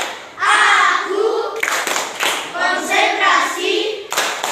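Children in a classroom clap out short rhythmic patterns during a group chant, sharp bursts of hand claps falling between loud sung and spoken phrases, close and lively.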